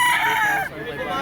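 A gamecock rooster crows at a Lipa poultry market, one loud, close cock-a-doodle-doo call that trails off after about a second.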